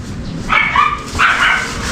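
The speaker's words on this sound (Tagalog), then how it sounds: "Ingay yung aso." A dog barks twice, close and fairly loud, two short sharp yelping barks about half a second apart over a quiet background.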